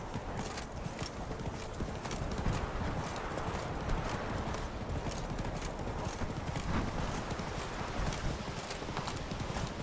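Geralt's horse Roach gallops in The Witcher 3, rapid hoofbeats pounding steadily over rough ground with a brief whinny, close and driving throughout with no speech.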